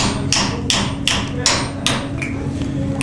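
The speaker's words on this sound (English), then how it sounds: "you got to hammer out all the hammer marks" Metal hammer striking copper sheet to smooth out earlier hammer marks, giving about six evenly spaced, sharp strikes over a steady low background hum.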